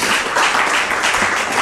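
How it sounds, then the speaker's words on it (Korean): Congregation clapping during a New Year's Eve church service, a brief burst of dense applause filling the room, fairly loud and even. "우리 리더들을 위해서 다시 한번 박수로 맞이하도록 하겠습니다"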